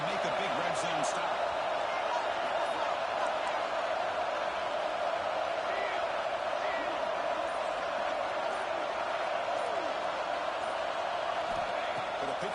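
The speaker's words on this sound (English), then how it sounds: "And here comes the noise. This crowd is trying to inspire this defense to make a big red zone stop." Stadium crowd noise in the College Football 26 video game during an LSU versus Texas matchup, a steady roaring wall of fans sustained evenly and loudly, with commentary talk over it.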